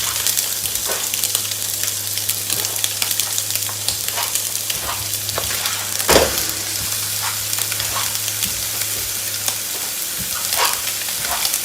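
Italian sausage and hamburger frying in olive oil in a pan, a steady close sizzle with crackling pops and a louder burst of spitting near the middle, continuing evenly without speech.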